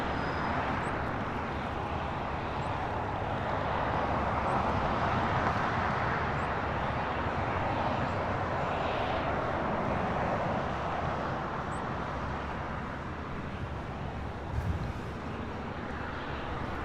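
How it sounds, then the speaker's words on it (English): JetBlue Airways Airbus A320 arriving at Los Angeles International from Las Vegas, a broad steady rumble of jet engines on approach, moderately distant and even in level throughout, with no talking. "This is JetBlue Airways Flight 879 coming in from Vegas in this A320."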